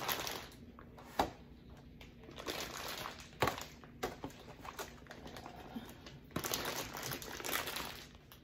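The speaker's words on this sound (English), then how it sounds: "I'm gonna go ahead and remove the plastic" Plastic wrapping crinkles and crackles as it is pulled off a ham in a kitchen, close and fairly quiet, in uneven bursts of rustling with a few sharper snaps, with no talk.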